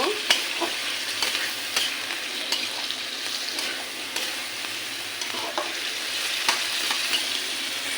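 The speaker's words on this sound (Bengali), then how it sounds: "মশলা কষানো শেষ এখানে আমি আলু দিয়েছি আলুটা একটু ভালো করে কষিয়ে নেব" Potatoes stir-fry in spiced oil in a pan, giving a bright, continuous close sizzle with sharp spatula scrapes and taps spaced through it, alone without speech.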